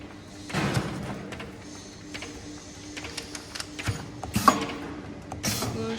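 An irregular-shape sachet packing machine runs with a steady mechanical hum, broken by irregular clicks, clacks and short creaking bursts as its parts cycle. The sounds are close and moderate in level, with no talking.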